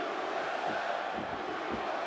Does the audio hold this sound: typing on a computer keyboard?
no